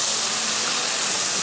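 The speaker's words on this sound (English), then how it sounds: "Now I'm gonna add in the rest of our stir fry sauce." Stir fry sauce hits a hot pan of charred carrots and green beans, giving a loud, steady broadband sizzle and hiss that holds evenly without pause.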